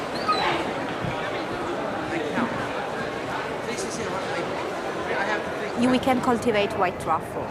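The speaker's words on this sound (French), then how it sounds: "nous avons aussi 5 chiens qui ont un très bon nez pour dénicher des truffes" Truffle-hunting dogs give off yips, whimpers and a few barks, with a burst of rapid yapping near the end, under steady talk and outdoor background noise.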